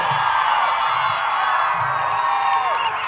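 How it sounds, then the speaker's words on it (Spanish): A crowd at a political rally in Nueva Esparta cheers and whoops steadily, a dense, loud roar of voices sustained throughout with no pause. "¡Aplauso aquí en Nueva Esparta!"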